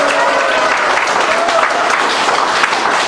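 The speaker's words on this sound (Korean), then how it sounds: "김성기 대표님께 뜨거운 박수 한 번 더 부탁드리겠습니다." Applause from a rally audience honoring a party leader, a dense steady clatter of many hands filling the space, with a faint voice or tone running underneath.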